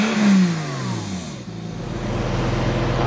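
Porsche Boxster engine revving hard through a tuned exhaust with opened flaps, a loud, close, rising roar that settles into a steady deep rumble, with no talk.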